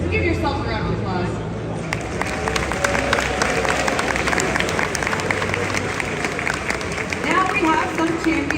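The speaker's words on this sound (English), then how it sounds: "So give yourself a round of applause." Audience applause fills a large arena at a Pokémon championship finals event in Honolulu, steady and sustained clapping with crowd noise and scattered cheers throughout, alongside some voices.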